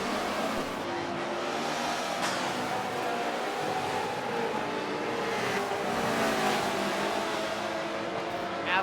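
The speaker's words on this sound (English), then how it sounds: "Adler putting all types of pressure on Diamond Man as they get into the corkscrew." GT race cars run through the Laguna Seca corkscrew. Their engines drone and rev at moderate distance in a steady, fairly faint wash of motor noise.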